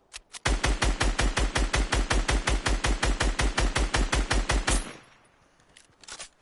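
A rapid, loud burst of about thirty evenly spaced gunshots fires from a video game shotgun, then cuts off into a faint tail with a couple of quieter clicks.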